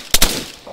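Gunfire in Arma 3: two sharp, loud shots in quick succession crack out close by, then fade into a brief ringing tail.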